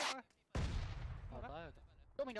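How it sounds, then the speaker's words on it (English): Mortar fire in the battle royale game PUBG: a single heavy boom with a long, rumbling decay, between brief bursts of someone talking. "Sending mortars at BB."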